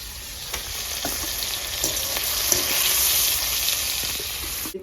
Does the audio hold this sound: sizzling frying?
yes